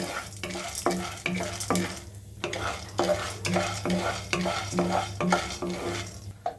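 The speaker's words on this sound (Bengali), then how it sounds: "এগুলোকে খুব ভালোভাবে এভাবে নেড়ে চেড়ে তেলের সাথে মিক্স করে নিব এবং ততক্ষণ ভাজবো" Popcorn kernels being stirred in hot oil in a pan: close, rhythmic scraping strokes of a utensil over a continuous frying sizzle, with occasional light clinks of metal.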